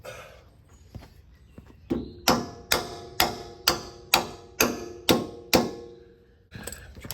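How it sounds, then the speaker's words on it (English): A hammer driving a bolt out of a lower ball joint on a first-generation Toyota Sequoia, a fast run of about nine loud, ringing metallic blows after a few lighter taps, close up and alone. "Drive this bolt out"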